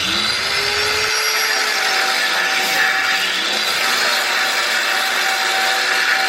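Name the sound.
cutting off a rusted exhaust clamp on a Ram 1500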